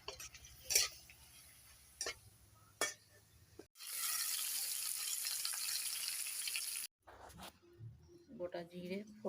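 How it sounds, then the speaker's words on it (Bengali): Whole cumin seeds hit hot oil for a papad and potato curry, giving a sudden loud sizzle that holds for about three seconds and then cuts off. Scattered clicks and taps come before it, and a voice is heard briefly afterward. "গোটা জিরে ফোড়ন দিলাম"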